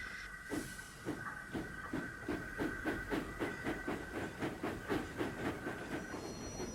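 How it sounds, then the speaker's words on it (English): A steam locomotive puffs away as the regulator opens, its regular chuffs accelerating steadily over a continuous hiss and a sustained whistle-like tone, loud and close with no talk. "as he opened the regulator and Edward puffed away"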